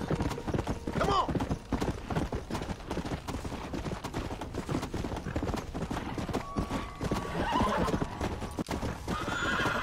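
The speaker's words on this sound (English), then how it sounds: "Zombie horse! It's coming after me!" A zombie horse in Red Dead Redemption's undead nightmare mode gallops with dense, rapid hoofbeats, and loud neighs and whinnies rise over the hooves. Gunfire and a voice are faint underneath.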